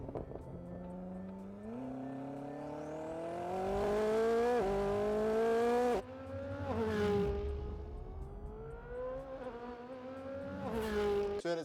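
A Bugatti car at the Festival of Speed drives fast and slides out of corners, its engine note loud and close, repeatedly rising in pitch and dropping between gear changes.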